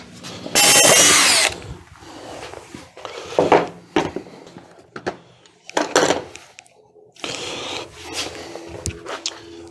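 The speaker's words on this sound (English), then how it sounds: "Let's drill the other one." A cordless power drill whines in short bursts, grinding a hole into material with scraping and rustling between, no talking.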